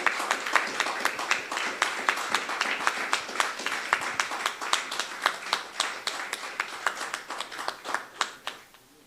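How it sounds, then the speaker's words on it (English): A crowd applauds steadily, many hands clapping in a dense, even patter that continues throughout before tapering slightly at the end. "Please give a huge round of applause once again."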